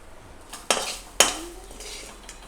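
Grated coconut being lightly roasted in a pan, heard as two sharp metallic scrapes or knocks of a spoon against the pan amid a quiet background.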